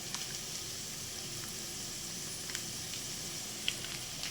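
Ground spices frying in oil in a pan for cashew mushroom curry, a quiet, steady sizzle with small crackles and pops scattered throughout, no talk.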